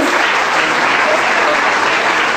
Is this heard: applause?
yes